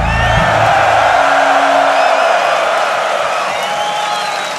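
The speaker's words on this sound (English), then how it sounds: "you guys deserve a round of applause" A large concert crowd at Wacken Open Air cheers and claps, a loud continuous roar with whoops that gradually eases off, joined by a brief low tone at the start.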